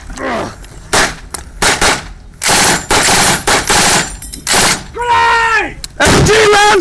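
A machine gun fires loud, close bursts in rapid succession between short pauses, with shouted voices rising in between and after the gunfire.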